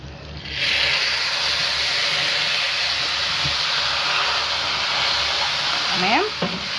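Washed and drained rice hits a hot pan of golden-browned vermicelli, setting off a loud, steady sizzle and hiss that runs throughout, with a brief clatter of stirring near the end.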